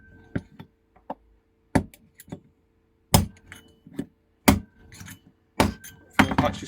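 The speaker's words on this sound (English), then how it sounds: "I can just tap one side then the other and drive it out." Sharp metallic taps of a hammer striking a punch to drive out a bicycle freehub bearing, a dozen or so close, irregular strikes alternating in small clusters with quiet gaps between.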